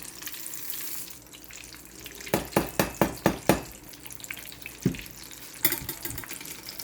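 Fish coated in crackers frying in a pan gives a steady crackling sizzle, broken by a run of sharp clacks from a utensil against the pan and a few later knocks.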